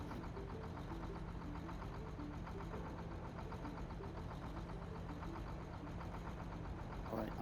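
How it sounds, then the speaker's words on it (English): A truck engine idles steadily in the SnowRunner game on the Kola Peninsula map, a low, even rumble with a constant hum that continues unbroken and alone. "I shouldn't have kept the engine running"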